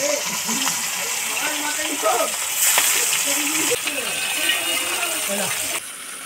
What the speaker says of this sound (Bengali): এবার আমি মাছ ভাজা করছি